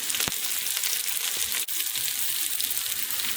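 Shishito peppers fry and char in hot oil with a steady, loud broadband sizzle that crackles throughout, with a couple of brief sharper pops.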